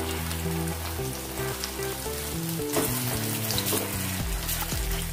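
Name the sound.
flipping crispy semolina potato snack frying in oil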